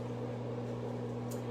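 A microwave oven runs in a home kitchen during meal prep, giving a steady low mechanical hum with a constant tonal drone, alone and fairly quiet throughout.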